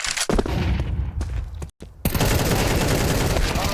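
AK rifle fire in Counter-Strike 2: dense, loud bursts of automatic shots, a brief near-silent gap, then more sustained spraying.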